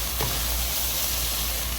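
Spiced mutton mixture with black pepper, paprika, oregano and chili sauce sizzles steadily in a pan while being stirred, a loud continuous frying hiss with soft scraping.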